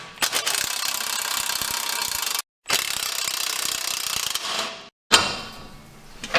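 A ratchet spins out a strut bolt on a Ford Bronco Sasquatch during a wheel, tire and lift install, giving a loud, fast continuous clicking in two long runs broken by short pauses, then a final burst.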